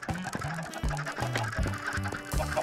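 Repeated short duck quacks and clucks from drowning ducks in Minecraft, in quick succession, loud and close, over a busy layered game background.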